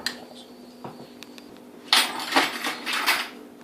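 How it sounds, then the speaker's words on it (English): Jumbo lump crab is folded gently into horseradish sauce in a bowl, a spoon scraping and clinking against the dish in soft bursts that grow busier and louder toward the end. "So I'm doing a light mix here and try not to destroy the jumbo lump crab"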